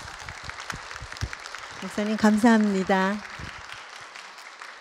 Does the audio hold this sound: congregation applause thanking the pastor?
yes